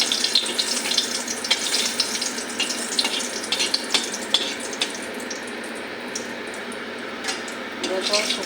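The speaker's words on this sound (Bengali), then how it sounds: "আমার তেল গরম হয়ে গেছে এখন একটা শুকনো লঙ্কা দিয়ে দেবো" A dried red chili goes into hot oil and fries with a steady, dense sizzle, close and continuous for several seconds. No voices are heard over it.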